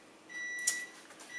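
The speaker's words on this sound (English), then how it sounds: "guess what's beeping?" A kitchen appliance gives a single short, clear electronic beep, moderately loud, during homemade mince meat cookie baking, against a faint steady background hum.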